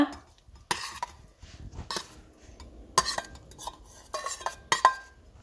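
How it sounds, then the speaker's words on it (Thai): Dipping sauce is scooped into a small bowl while preparing a crispy fluffy salmon salad with green mango, giving sparse close clinks and light scrapes of dishes and a spoon, with quiet gaps between the knocks. "เอาถ้วยน้ำจิ้มมาตักใส่ลงไปให้ดูสวยงามนะ"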